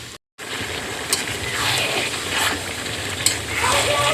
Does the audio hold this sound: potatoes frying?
yes